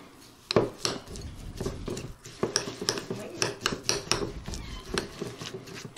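A spoon stirs thick organic yogurt with cranberries and coconut, making repeated close clinks and scrapes against a bowl in an irregular rhythm.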